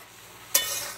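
Chowmein noodles boiling in a pot get a single quick stir: one sudden scrape-and-swish bursts over a low bubbling hiss, close by, with no talking.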